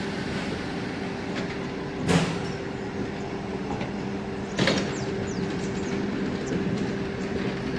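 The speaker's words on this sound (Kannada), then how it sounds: "ನೋಡಿ ಸರಿಯಾಗಿ ಆನ್ ಟೈಮ್ಗೆ ರೈಲ್ವೆ ಡಿಪಾರ್ಚರ್ ಆಗುತ್ತೆ" A DEMU train pulls out of Dandeli station, a steady rolling rumble with a couple of brief louder clanks or jolts, heard from on board with no talk.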